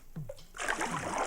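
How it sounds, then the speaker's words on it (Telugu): Water splashes and sloshes on a game-show set, a short gurgle giving way to a steady wash of splashing that holds at moderate loudness to the end. "వాటర్ చప్పుడు వస్తుంది."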